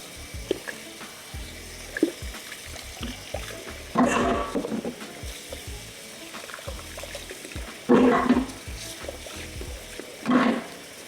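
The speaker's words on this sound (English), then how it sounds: "all I'm doing is rinsing." Tap water runs while a juicer part is rinsed, with three louder splashing bursts as the part goes under the stream amid a steady low trickle.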